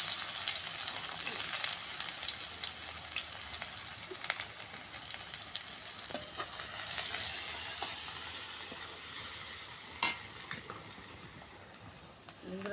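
Chopped onion frying in hot oil in a wok (kadai), a steady loud sizzle throughout, with occasional soft clicks from stirring and no talking.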